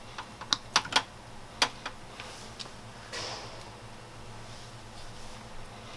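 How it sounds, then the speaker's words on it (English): Wire cutters trim back exposed wire while a fuse block is connected to a power source in a 170 Sprinter van: a few sharp, close snips and clicks in the first two seconds, then a quiet stretch with faint handling noise. "So I'm going to take a pair of cutters and trim this back."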